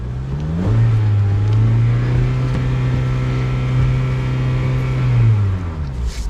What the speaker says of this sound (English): See if I give it some gas